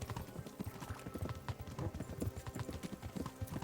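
Rapid, rhythmic hoofbeats of a horse galloping on a dirt road in the Kingdom Come: Deliverance video game, steady and fairly close, with a faint whinny-like tone underneath.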